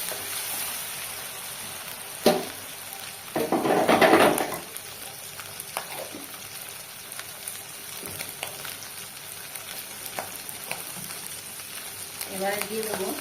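Eggplant fries with turmeric in a pan, a steady soft sizzle running throughout with a louder crackling burst partway and a few spoon scrapes, no voices.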